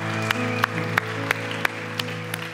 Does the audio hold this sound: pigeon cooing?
no